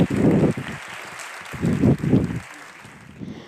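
An audience applauds a speaker at a Naukas science talk event in Valladolid, with a steady, broad wash of clapping that swells in waves and then thins toward the end, accompanied by rumbling, wind-like noise.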